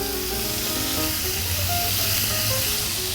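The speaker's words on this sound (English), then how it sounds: "We're going to put a little bit of garlic into the pan with the mince." Garlic and mince sizzling in a frying pan for a healthy Italian spaghetti dish, a loud, steady, close hiss of frying that holds constant throughout.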